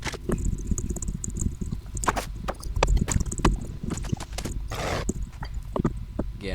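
Horse hooves clip-clop in a video game over land, a busy patter of hoof steps mixed with other game sounds and a brief whinny-like noise, fairly loud and continuous.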